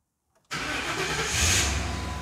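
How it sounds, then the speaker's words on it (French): A Ford Crown Victoria Police Interceptor V8 cranks and fires after a brief silence, then settles into a loud, steady, rumbling idle close to the microphone, with no talking. "On entend le V8, hein."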